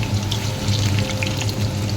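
Steady sizzle of potatoes frying in a pan during Bengali-style mutton kosha cooking, a continuous close crackle without pause or talk.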